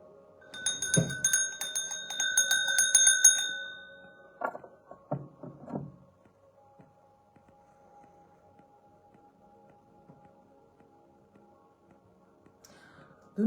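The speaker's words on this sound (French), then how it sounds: "J'ai besoin de ma cloche." A hand bell rings out bright and clear with sustained metallic tones for a few seconds, followed by softer clinks and handling noises before fading into near silence.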